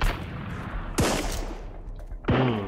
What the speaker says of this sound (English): they have a machine gun